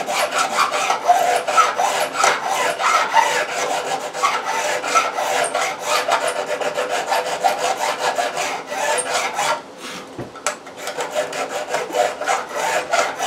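A hand file bevels guitar fret ends against the fretboard in quick back-and-forth rasping strokes, close and steady, with a brief pause near the end before the strokes resume; no voices.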